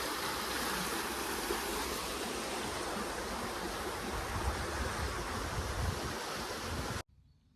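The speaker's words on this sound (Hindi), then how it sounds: "ये नदी थी यहाँ पे, और ये लेक का पानी सारा अंदर जा रहा है।" River water rushes into a lake in Burabay National Park, Kazakhstan, a loud, steady broadband roar of flowing water close by that cuts off abruptly near the end.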